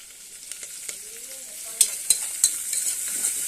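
Oil sizzles steadily in a pan as onions fry for a tempering, with a few sharp clacks of a spoon stirring against the metal.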